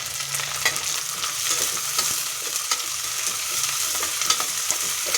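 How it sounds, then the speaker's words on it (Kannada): Sliced onions frying in hot oil inside a pressure cooker make a dense, steady sizzle that is close and fairly loud, with light scraping from stirring and no voices. "ಎಣ್ಣೆ ಕಾದ ನಂತರ ಒಂದು 2 ಈರುಳ್ಳಿನ ಹಾಕ್ಕೊಳ್ತಿದ್ದೀನಿ."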